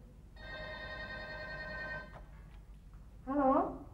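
A telephone rings in an Indonesian drama scene, one long electronic trill that cuts off after about two seconds, heard fairly close and clear; a voice speaks briefly just after the ring stops.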